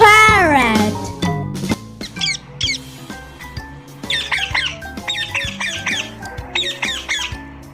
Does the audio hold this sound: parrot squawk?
yes